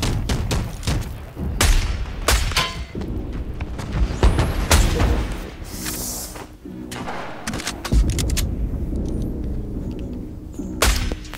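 Sniper rifle shots ring out in the video game Fortnite, several sharp, booming cracks at irregular intervals over a busy bed of in-game noise, with no talk.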